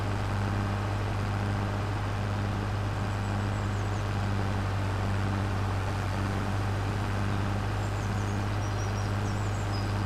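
A Ford tractor engine in a farming video game drones steadily and low throughout, a constant mechanical hum with no clear changes in revs and no talking.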